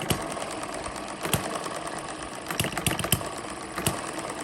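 A small model hit-and-miss engine runs on a mini homemade dynamometer under load, giving a steady close-up mechanical chatter with sharp periodic firing pops over continuous clatter.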